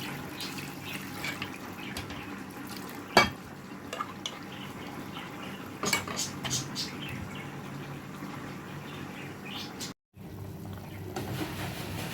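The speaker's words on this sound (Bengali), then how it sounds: "পানি দিয়ে দেব" Water is poured into chicken roast marinating with yogurt and ground pepper. A faint, quiet splashing and trickling comes with a few light clinks, and no voices.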